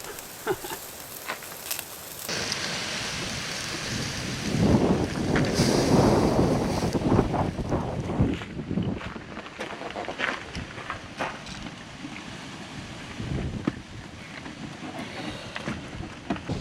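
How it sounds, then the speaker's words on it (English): Strong gale-force wind buffets the microphone at a campsite in Girrawheen National Park, a continuous roaring rush that surges loudest midway and then eases, with no talk over it. "it's blowing a gale out here"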